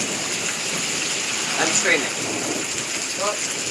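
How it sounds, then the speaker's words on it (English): Steady rain pours during a thunderstorm in Pittsburg, Kansas, a dense continuous hiss throughout with a faint rumble of thunder; a voice speaks briefly under the rain midway. "Getting the storm on camera."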